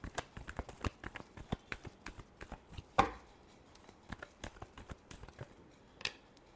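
Tarot cards being shuffled by hand, close and clear, with a steady run of sharp, rapid slaps and riffles and one louder snap partway through.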